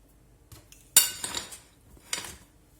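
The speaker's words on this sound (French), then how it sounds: "On va prendre une banane. On va la couper en deux." A knife cutting a banana in half on a plate, a few sharp clinks and scrapes of metal against crockery in a quiet kitchen, with one louder knock near the start.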